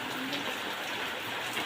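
Steady rain falls outdoors as an even, soft hiss with no breaks, fairly quiet throughout.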